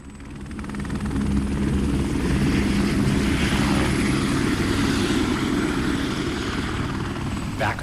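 Military helicopters during the evacuation in the last days of Vietnam roar steadily and loudly throughout, with a dense rotor thump and engine noise filling the scene and no clear voices.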